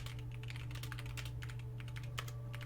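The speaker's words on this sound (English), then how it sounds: "this is me typing that Oreo was lying" Rapid, irregular clicking of computer keyboard keys during a speedrun, steady and close over a constant low electrical hum, with no talking.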